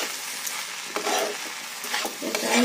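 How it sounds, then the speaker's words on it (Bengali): A spoon stirs ground black pepper and spices through rice in a hot pan, giving a soft continuous sizzle broken by a few scraping strokes. "এটা মিশিয়ে দিলাম, দিয়ে দেবো হচ্ছে এবার চালটা।"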